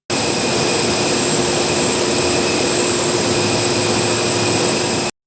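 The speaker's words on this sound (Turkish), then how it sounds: "Şu an duyduğunuz bir jet motorunun sesi." A jet engine roars at full power, a loud, steady, unbroken blast of broadband noise with a faint whine running through it, ending abruptly.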